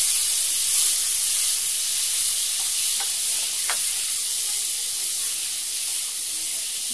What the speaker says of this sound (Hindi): डायरेक्ट मक्खन आपको नहीं डालना, तेल के साथ में डालना है